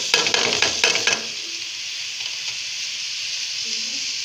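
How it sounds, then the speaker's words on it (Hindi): Spices and chicken frying in a pan. A few quick stirring scrapes come first, then a steady sizzle continues at a moderate level. "अब ये सारे स्पाइसेस डालकर हम इसको भूनेंगे"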